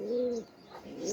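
Pigeons coo close by in the early morning, a soft low throaty call that rises and falls, repeating once after a short pause, heard alone.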